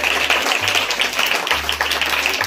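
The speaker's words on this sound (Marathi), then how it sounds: "एकदा कुंभार मॅडम साठी जोरदार टाळ्या झाल्या पाहिजेत." Clapping at a Raksha Bandhan rakhi-making competition at a school, where the crowd applauds a teacher. The applause is loud and dense but brief, with a low steady hum underneath.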